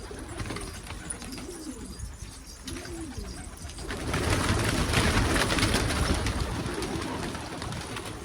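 Young tumbler pigeons coo in soft, repeated rolling phrases, then a loud rustling, scuffling noise takes over near the microphone.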